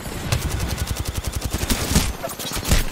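Rapid automatic gunfire from a weapon in CS:GO, a fast steady stream of loud close shots with brief gaps and a few heavier bursts near the end.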